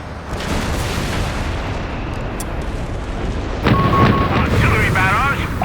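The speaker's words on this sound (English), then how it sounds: "Artillery barrage on the way." An artillery barrage in the video game Company of Heroes 3, a loud continuous rumble of distant blasts and booming impacts, with a burst of louder crashes and whistling near the end.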